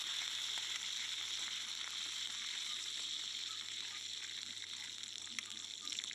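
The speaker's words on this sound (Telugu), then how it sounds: "బాగా డీప్ ఫ్రై బాగా ఫ్రై అయిపోవాలండి" Curry leaves and drumstick leaves deep frying in oil, a continuous bright hiss and crackle that stays even and fairly quiet throughout, with no other sound.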